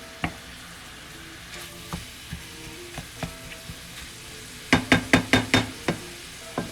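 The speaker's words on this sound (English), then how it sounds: "so we go ahead and fry it brown" Ground meat browns in a frying pan for a baked spaghetti with pepperoni, giving a low steady sizzle broken by sharp utensil scrapes and taps, with a quick run of loud knocks near the end.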